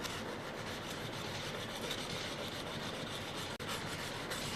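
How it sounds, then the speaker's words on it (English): Steady abrasive rubbing of a blade being honed on a sandpaper block, a continuous close scratching stroke sound with no talk. "As you hone an area, slowly lift the back of the block until you hone right out to the cutting edge."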